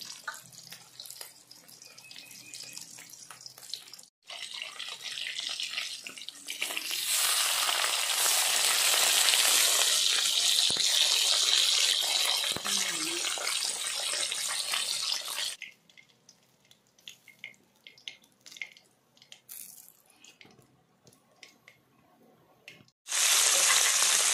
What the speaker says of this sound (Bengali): আলুগুলো কাটা হয়ে গেছে, এবার ধুয়ে নেবো ভালো করে।